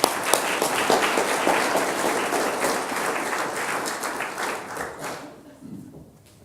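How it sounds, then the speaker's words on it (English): Audience applause for a closing conference keynote speaker: dense, steady clapping from a large room that holds for about five seconds, then thins out and fades into quieter scattered claps. "I know I've had you applaud like 8 times now, but please, the biggest one for our closing keynote, Dr. Fred Mulder."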